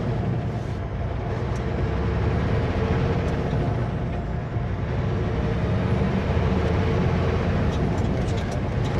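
Heavy cement mixer truck passing on a road in Whitehorse, a loud, steady broadband engine and tire rumble with air-brake hiss that fills the whole stretch close by.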